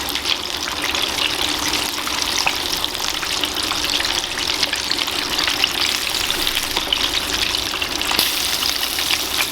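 Chicken pieces deep-frying in hot beef tallow, a steady dense sizzle and bubbling crackle that holds close and even for the whole stretch, with no voices over it.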